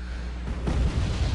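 Artillery shelling in the Wargame strategy video game: a low, muffled, distant-sounding explosion rumbles in over steady background battle noise.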